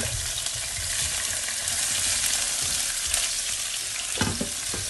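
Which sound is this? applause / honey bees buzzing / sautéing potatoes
sautéing potatoes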